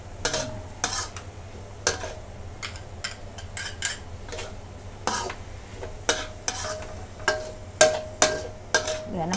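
Minced pork, basil and long beans stir-fried in a pan: repeated scraping clatters of a spatula against metal in an uneven rhythm over a steady low sizzle, close and fairly loud, with no talking.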